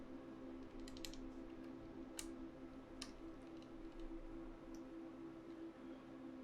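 Sparse, faint keystrokes on a GMMK Pro mechanical keyboard, a handful of separate clicks spread over a quiet, humming background with no talking.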